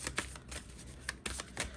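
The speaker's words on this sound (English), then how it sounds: "Because I know y'all see me shuffling here for how long." Tarot cards are shuffled close by in quick riffling bursts with sharp snaps, quiet overall and without talk.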